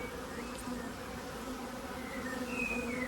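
Honeybees buzz steadily around a nucleus hive outdoors, a continuous close hum with a few individual bees droning past, no voices over it.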